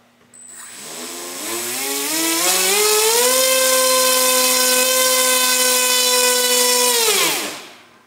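Electric motor driving an inverted propeller on a thrust test stand, spinning up with a rising whine over about two seconds, holding a loud steady tonal whir, then winding down near the end.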